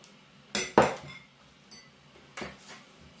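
A utensil mixing milk and egg white into brioche dough ingredients in a bowl: a couple of close, bright clinks against the bowl followed by a quieter knock, with no talking.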